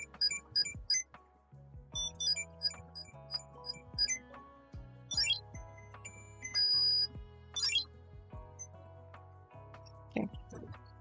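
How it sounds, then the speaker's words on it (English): A Tamagotchi handheld toy chirps out short electronic beeps and melodic blips in irregular clusters, close and clear over a quiet background. "I just realized that the mic is picking up every beep boop."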